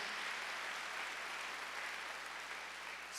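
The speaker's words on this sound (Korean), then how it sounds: "박수로 하세요." A church congregation clapping during a Wednesday worship service, an even, sustained roar of many hands that holds steady throughout and rises slightly at the very end, with no speech.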